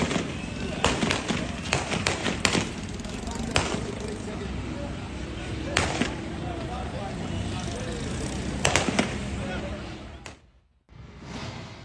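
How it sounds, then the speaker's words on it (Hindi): Police firing into the air and shelling at a protest in Pakistan crackle as a dense stream of sharp pops and bangs over constant crowd noise and street bustle, with a news reporter talking over it. "पुलिस की हवाई फायरिंग और शेलिंग से मुजाहिरीन मुंतशिर हो गए हैं।"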